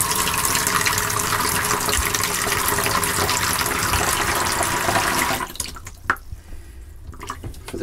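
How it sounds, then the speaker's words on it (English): Hot water from the shower head in a 2006 Peugeot Compass motorhome sprays in a loud, steady hiss for about five seconds, then cuts to quieter drips and trickles. "pull down for the shower effect, go to hot, and that's just starting to come through now"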